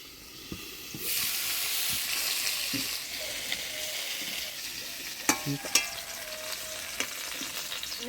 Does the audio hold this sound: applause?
no